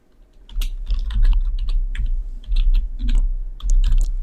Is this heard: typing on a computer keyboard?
yes